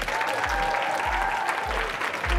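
Steady, dense applause from an audience cheering a group of boys at dance auditions, continuous and fairly loud throughout with a few low thumps repeating underneath.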